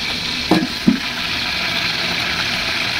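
Potatoes drop into a pot of Aloo Chicken Dum Biryani with two quick soft plops, followed by a steady hissing sizzle of frying that continues evenly at close range.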